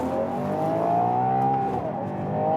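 A Ferrari Purosangue engine revs steadily on a Scottish road, heard from inside the car. The strong, smooth note climbs and then eases off, with no talking over it.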